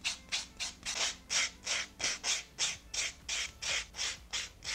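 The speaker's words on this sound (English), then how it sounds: "I'm gonna first start out with a buffing block, and mine is in pretty bad shape, but I will just go over each nail and kind of buff them out." Quick rhythmic scratchy rubbing strokes from a worn buffing block worked over each dip powder nail, about a dozen evenly spaced passes, close and alone.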